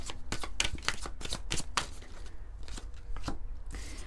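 A deck of Moho oracle cards is shuffled up close, with a fast string of crisp papery flicks and riffles that thin out toward the end.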